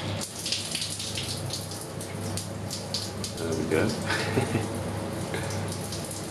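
A hotel bathroom shower runs with a weak flow, giving a steady close patter and splash of water throughout while someone talks briefly over it.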